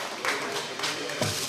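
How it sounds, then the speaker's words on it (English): Short burst of audience applause at an opening ceremony for a sports team, steady clapping from a modest crowd with a few louder claps standing out, lasting about a second and a half. "big round of applause to team"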